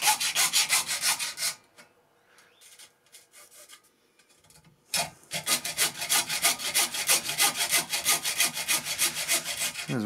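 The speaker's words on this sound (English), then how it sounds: "And here I am just hacking it up with a hacksaw." A hacksaw cuts through a Makita 40V-to-18V battery adapter in fast, rasping back-and-forth strokes, close and loud, with a pause of a few seconds before the sawing resumes steadily.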